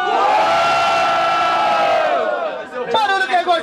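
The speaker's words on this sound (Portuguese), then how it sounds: "Então, barulho quem gostou da rima do freestyle do MC Nego Drama." Loud crowd at a freestyle rap battle roars with cheers and shouts, sustained at full volume before breaking into scattered whoops near the end.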